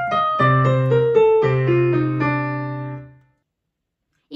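Piano notes step downward in a steady, evenly spaced run from Vivaldi's Summer storm movement, each struck clearly and ringing before fading into silence.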